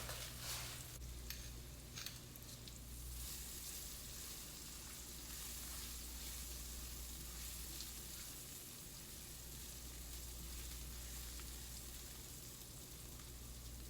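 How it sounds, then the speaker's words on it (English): Onion and chili sauté in oil in a hot pan, a steady, close sizzle that carries on without a break the whole time, with a little stirring near the start. "saute your onion and chili, season, salt and pepper"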